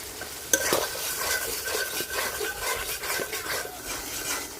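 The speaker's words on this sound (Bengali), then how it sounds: "দই দেওয়ার পর মশলাটা আমি ভালোভাবে কষাই দিচ্ছি" Spiced masala paste with whisked sour yogurt frying in a pan, tomato already cooked in, stirred steadily with a spoon; soft sizzle under repeated scraping strokes, close and moderate, no talk.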